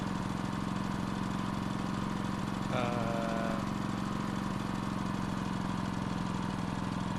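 A generator engine in a video game revs steadily up to about 1250 RPM for clutch release, a continuous mid-pitched drone throughout with a brief change in tone partway through.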